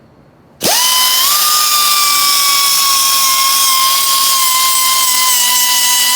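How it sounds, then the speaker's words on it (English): A power grinder on a BMW engine rebuild, grinding off parts: the tool spins up abruptly and holds a loud, steady high whine for several seconds, close and alone. "We're gonna go ahead and start grinding these off so we can get these off"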